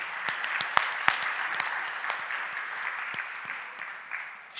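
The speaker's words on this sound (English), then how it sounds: "Can I just get a big round of applause for Adina?" Steady applause from an event audience, a sustained wash of many hands clapping with a few louder close claps standing out, fairly moderate in level throughout.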